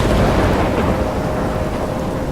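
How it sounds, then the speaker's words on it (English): A thunderstorm in Life is Strange rumbles with deep, rolling thunder over heavy rain, a dense continuous roar that stays loud throughout with no voices. "I'm trapped in a storm?"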